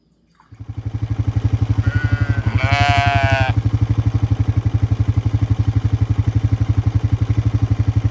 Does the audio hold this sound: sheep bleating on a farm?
yes